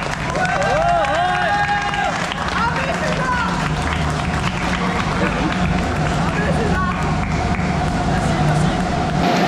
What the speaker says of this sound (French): Et pour la 1ère position, on peut l'applaudir bien fort, César Malfoy.